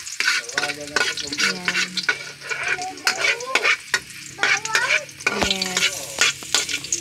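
Garlic crackles and sizzles in cooking oil with frequent scraping stirs of a utensil against the pan, close and moderately loud, while a voice speaks a couple of short words.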